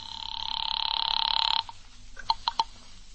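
An old telephone rings in a radio drama after a number is dialed, with one long steady ring tone followed by a few short clipped rings, close and clear with no speech over it.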